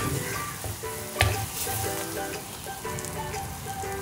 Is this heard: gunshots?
no